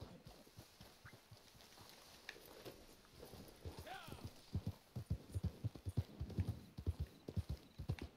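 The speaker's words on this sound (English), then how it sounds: "I call my horse" A horse gallops in Red Dead Redemption 2 after being called, its rhythmic clip-clop hoofbeats growing louder and closer over a low hum.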